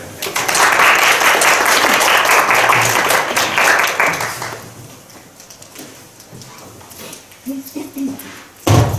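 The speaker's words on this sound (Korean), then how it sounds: "먼저 우리 소장님이신 임전수님 박수로 해주시기 바랍니다." Loud applause from a colloquium audience welcoming the institute director, sustained for about four seconds before fading into scattered claps, room noise and a few faint voices.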